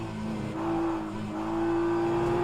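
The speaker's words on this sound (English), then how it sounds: "Beautiful BMW acceleration" A BMW race car in rFactor 2 accelerates through its gears at Road America, a steady engine drone rising in pitch, loud and close with no talk.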